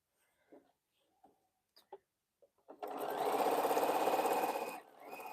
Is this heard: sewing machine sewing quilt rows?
yes